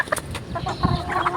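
Several chickens cluck nearby in short, irregular bursts, a busy cluster of fowl calls close to the listener.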